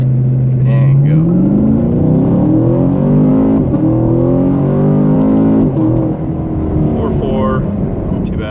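A 2016 Chevrolet Camaro SS launches from standstill to 60 mph with traction control off in manual mode. A loud deep V8 roar climbs through the gears with a short break at each shift. Voices are heard under the engine.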